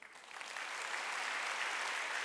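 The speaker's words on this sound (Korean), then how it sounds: "박수 좀 쳐줘요" Applause from a church congregation during a Wednesday worship service, a steady even wash of many hands clapping at moderate distance, rising quickly at the start and holding level without voices.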